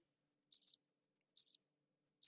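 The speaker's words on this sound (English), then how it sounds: "Yeah, crickets." Crickets chirp in short pulsed bursts, three spaced groups of rapid trills standing out clearly against complete silence, used as a sound effect.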